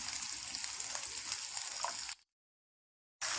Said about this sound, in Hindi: अब स्पैचुला की मदद से हम इसको इस तरीके से मिक्स करते रहेंगे।